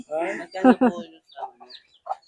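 A few short chicken clucks sound close by, choppy and throaty, with brief gaps between them.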